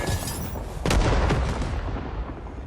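A single loud, booming phosphorus grenade explosion in the video game Rising Storm 2: Vietnam bursts out amid constant background noise, followed by a lingering rumble, with no talking.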